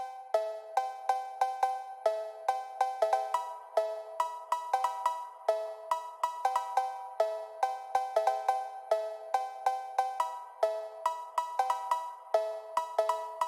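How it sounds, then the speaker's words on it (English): Repetitive melancholic cowbell melody of bright metallic notes ringing out with a lot of reverb, steady and mellow, no voices. "Make a repetitive kind of melancholic cowbell melody with a lot of reverb like this."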